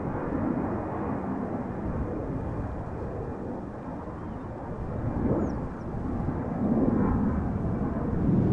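A Croatia Airlines airplane roars at Amsterdam Schiphol Airport, a steady broad jet rumble that swells slightly toward the end, heard from a distance with no talk.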